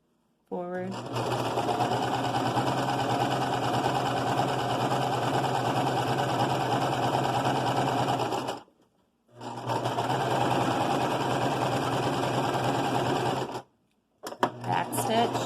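A sewing machine stitches a fabric face mask with ear loops in two long, steady runs of close, loud motor whir, separated by a brief pause, then starts up again after a short stop.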